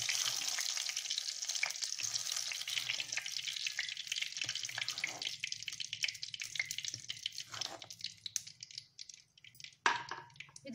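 Onions fry in oil in a pan with a steady close crackling sizzle that gradually thins out into sparser pops and spits.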